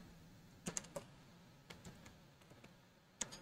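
Code is typed on a computer keyboard in soft, irregular bursts of close key clicks with short pauses between them. The sound is quiet, and there is no talking.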